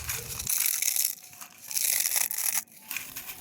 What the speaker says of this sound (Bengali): এখানে নিয়ে নিয়েছি কর্নফ্লেক্স আর এটাকে আমি হালকা একটু হাত দিয়ে গুঁড়ো করে নেব